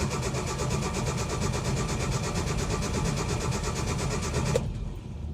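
A carbureted Shelby Cobra 427 cranks on its starter at a Copart lot in Portland, Oregon: an even, rhythmic churning for about four and a half seconds that then cuts off without catching.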